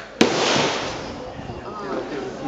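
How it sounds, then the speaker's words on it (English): A single sharp gunshot cracks early at the Cu Chi tunnels in Vietnam, followed by a lingering noisy wash of echo and background murmur. "subject to interruptions of gunfire that was, before I was rudely interrupted."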